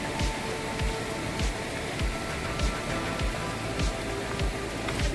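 Steady rain falls on a waterfall trek along a muddy, waterlogged path, a continuous dense patter with drops hitting nearby surfaces, and no one speaking.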